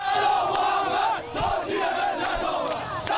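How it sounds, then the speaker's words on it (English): Crowds fill the streets of Tehran after a presidential election, a dense mass of cheering and shouting voices, loud and continuous with scattered louder yells. "Crowds poured into the streets of Tehran on Saturday evening, cheering for the country's next president, Hasan Rouhani."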